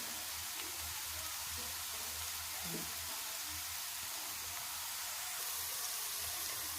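Curry leaves and green chillies fry in hot oil with a constant, dense hiss of sizzling that stays even and unbroken from start to finish.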